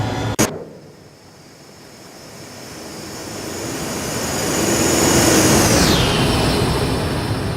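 An Embraer ERJ-145 regional jet taking off in the X-Plane 11 flight simulator: a steady jet engine roar that swells to a loud, sustained peak with a high whine sliding downward, heard alone after a brief click.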